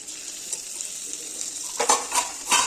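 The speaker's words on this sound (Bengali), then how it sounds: "দিয়ে একটু নাড়াচাড়া করে নিই।" Chili paste stirred into hilsa curry frying in a pan with taro root, a low sizzle followed by a few louder metallic spatula scrapes near the end.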